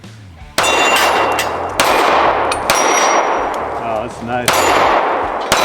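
Taurus G3X pistol shots fired at a steel target about 10 yards away, with four loud, sharp reports, each followed by a ringing metallic clang and echoing decay. A person speaks briefly between shots.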